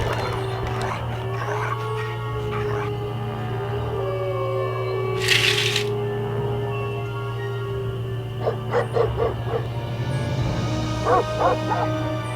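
Dog sounds from the video game Nancy Drew: Ghost Dogs of Moon Lake, a few short yips and barks in the latter half over a steady low game ambience and music, moderately loud.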